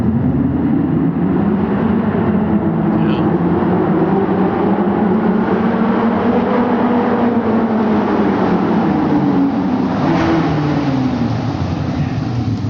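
A Ferrari engine running loud and close, a sustained droning roar whose pitch rises and falls in slow revving sweeps, continuous throughout with no voices.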